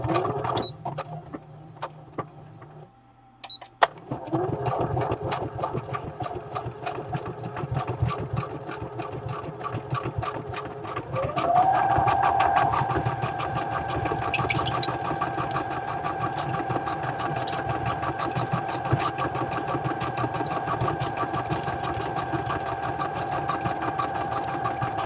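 Sewing machine stitching a holly pattern, running steadily and fairly close for most of the stretch with a brief pause near the start, its motor whirring at an even, continuous pace.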